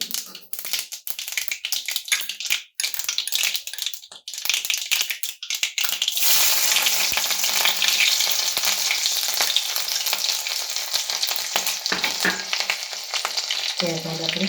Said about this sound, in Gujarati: રાઈ આપણી થોડી ફૂટે એટલે આપણે એમાં આદુ, મરચાં અને લસણને ઝીણા સમારીને લીધા છે, એને આપણે એમાં એડ કરીશું.